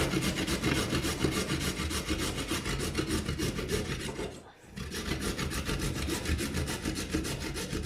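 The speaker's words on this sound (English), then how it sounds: "So now let's grind, chop, or whatever you might call this process, the carrots." Carrots are grated by hand for Swiss rösti, a close, rhythmic rasping scrape of quick repeated strokes, continuous apart from one brief pause midway.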